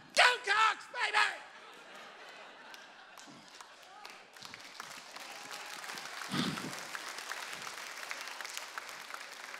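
Comedy club audience breaking into applause after a joke, with a few loud laughs or shouts at the start, then sustained clapping that builds and holds.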